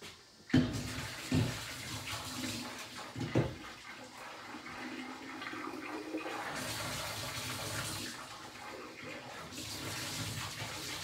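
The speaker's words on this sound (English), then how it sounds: "let's go ahead and fill up our water" Tap water runs steadily for several seconds to fill a container with a little over a gallon for homemade garden sage wine, a continuous rushing splash with a few louder knocks and clunks early on.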